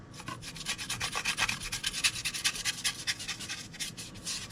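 Paintbrush bristles rubbing and dabbing across a painted model's surface, a close, steady run of soft scratchy brushing strokes in a fast, uneven rhythm, with no talking.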